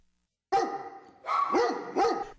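A dog barking at an animal humane society shelter, three loud close barks after a short silence, the second one drawn out and the last sharp, with no talking.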